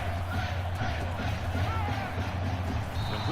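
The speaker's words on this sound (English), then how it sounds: "This crowd can really be intimidating for an opposing team." Stadium crowd roar during a video game college football match between Stanford and USC, a dense sustained murmur of many voices with low rumble underneath, steady and fairly loud throughout.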